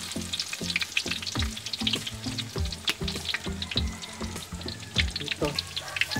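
Slices of ripe banana fry in oil in a pan, sizzling continuously up close with irregular crackles and pops, plus bursts of scraping and tapping from stirring or turning, and no voices.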